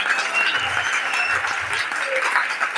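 A church congregation applauds and acclaims the Lord during a French-language worship service, a steady wash of clapping and cheering filling the space without pause, with faint low voices beneath.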